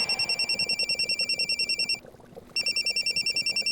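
Telephone ringing in fast, evenly pulsed electronic trills, bright and steady, pausing briefly before resuming, loud and close with no voices.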